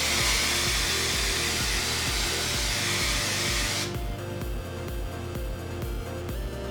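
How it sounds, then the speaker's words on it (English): L'Oreal Colorista no-bleach color spray hisses steadily from an aerosol can onto a section of hair for about four seconds, loud and close, then stops, leaving a quieter background hum. "pick a section of hair and spray it."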